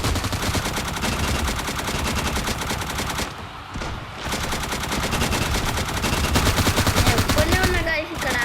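Rapid automatic gunfire from a shooting video game, loud and sustained in dense bursts with a brief lull near the middle, game sound effects layered throughout.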